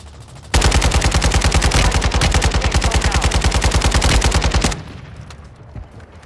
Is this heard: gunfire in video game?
yes